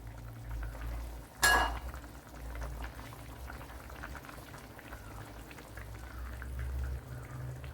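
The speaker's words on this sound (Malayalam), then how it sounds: "ഇനി ഇതൊന്ന് തിളച്ച് കുറച്ചുകൂടി ഒന്ന് കുറുകി വരണം" Bitter gourd curry simmering and thickening in a pot, with steady soft bubbling and a low background hum, plus one sharp clank near the start, and no talking.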